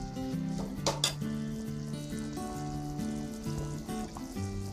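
Chayote and chili being stirred in a pan for chicken tinola, with a steady sizzle and a short burst of utensil clatter early on, under a melodic musical backing.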